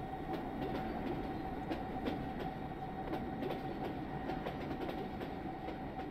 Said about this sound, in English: Hey, look, it's a baby train.